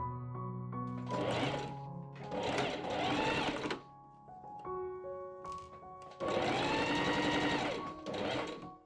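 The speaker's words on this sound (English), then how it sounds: "I machine sew along the pocket markings" Sewing machine stitching along pocket markings on Regency-style men's pantaloon trousers, running in three bursts of steady whirring with short pauses between, close and clear.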